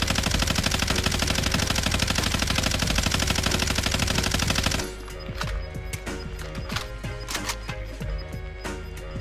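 Gunfire in the video game Warzone: a sustained, rapid automatic burst for about five seconds, then scattered sharp single shots and short bursts, loud and close.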